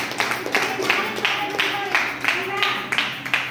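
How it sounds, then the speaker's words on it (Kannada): An audience clapping loudly in bursts, a dense rhythmic patter of many hands close by, rising and falling in regular waves. "ಒಂದು ಜೋರಾಗಿ ಚಪ್ಪಾಳೆ."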